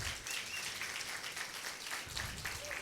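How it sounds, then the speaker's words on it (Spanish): Church audience applauding a pastoral family during a service, a steady wash of clapping from many hands that carries through the whole moment, moderately distant in a hall. "denle un aplauso a la familia pastoral"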